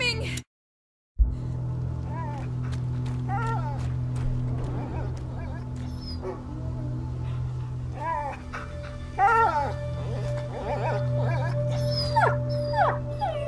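A dog howls and whimpers in A Plague Tale: Innocence, with repeated plaintive whines and yips over a low droning ambience, fairly close, after a brief silence at the start.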